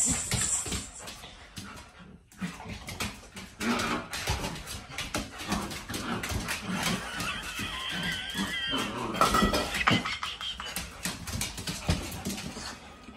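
A dog scuffles and whimpers playfully close by, with soft thumps, rustling, and intermittent high whines.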